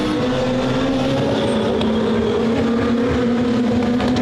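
James Thompson's Alfa Romeo touring car in a WTCC 2007 race at Valencia, heard from on board: a loud, steady engine drone holding a sustained pitch under constant acceleration.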